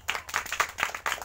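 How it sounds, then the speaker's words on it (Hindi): Several children in a Class 4 village classroom clapping for a classmate, uneven bursts of hand claps coming in short waves, fairly close and moderately loud. "करण के लिए ताली बजाओ"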